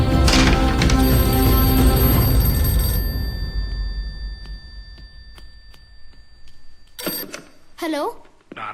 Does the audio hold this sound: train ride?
no